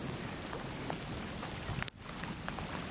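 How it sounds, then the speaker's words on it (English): Steady rain falls during a storm on a stranded fishing trip, a dense continuous patter with one sharp knock partway through, no voices. "Well, here comes the rain again,"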